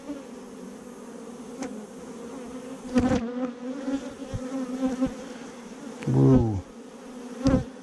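Honey bees buzzing at an open hive, a steady close drone with individual bees whizzing past the microphone; a person briefly exclaims partway through.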